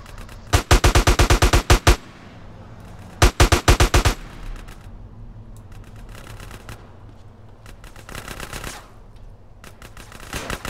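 Automatic AK rifle fire in the video game GTA San Andreas, loud rapid bursts of shots, two sharp volleys followed by quieter, more distant firing later on.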